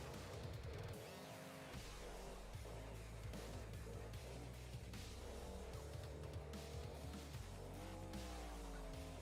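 A BeamNG.Drive monster truck engine fitted with adjustable Hater Hooker headers and Magnaflow exhausts runs loud and close, with a deep steady roar that rises and falls through revs and a few bursts of tire squeal.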